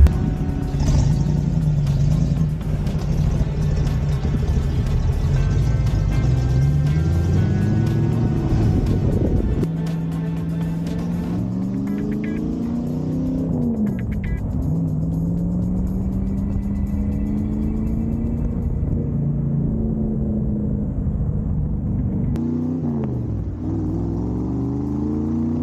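AC Cobra sports car engine revving and driving, a loud, deep rumble that climbs and falls through several throttle blips and gear changes, close and continuous for the whole stretch.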